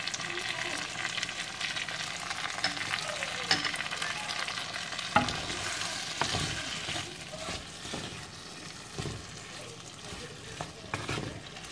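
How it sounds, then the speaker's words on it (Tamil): Sliced tomatoes with a little salt sizzle and fry steadily in a pan, with occasional scraping stirs and clinks over a continuous close hiss. "தக்காளி போட்டுட்டு லைட்டாக சால்ட் ஆட் பண்ணியாச்சுன்னா சீக்கிரமாக இந்த தக்காளி வதங்கிடும்"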